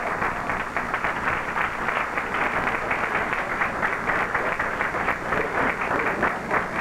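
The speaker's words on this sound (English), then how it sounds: "let's give them a nice round of applause." A pageant audience gives a sustained round of applause, a continuous crowd of clapping hands with a steady, busy texture, moderately loud and with no talk over it.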